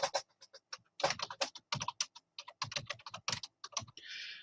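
Rapid typing on a computer keyboard, with close, crisp keystrokes in uneven bursts and short pauses, ending in a brief softer rustle.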